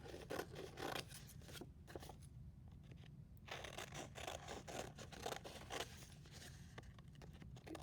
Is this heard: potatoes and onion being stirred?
no